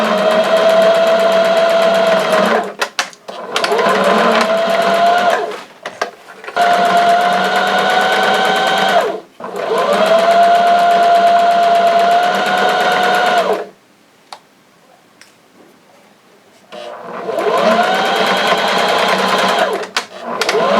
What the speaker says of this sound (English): So now we're just going to sew down both sides.